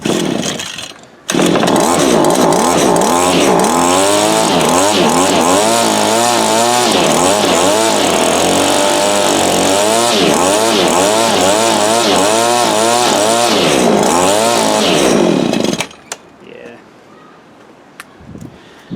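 An old Cub Cadet ST23 26cc string trimmer engine runs loud and ragged for about fifteen seconds, its pitch surging and sagging as it struggles to keep going, then cuts out abruptly into quiet.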